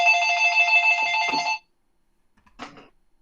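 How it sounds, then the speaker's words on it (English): An old-fashioned telephone bell rings loudly and continuously for about a second and a half, then stops abruptly, followed by a short soft rustle or bump, during a live stream about a Minecraft auction. "Is that an old-fashioned real phone?"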